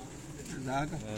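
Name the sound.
golden pigeons cooing on rooftop loft in Kasur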